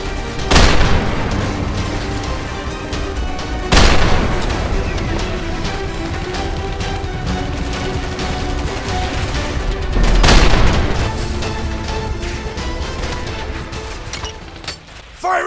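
Explosions and gunfire in the video game GTA 5 zombie attack, with three heavy booms spaced seconds apart over a constant loud rattle of gunfire and battle noise.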